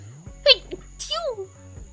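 A single sharp sneeze bursts out close and loud. A brief spoken exchange follows right after it.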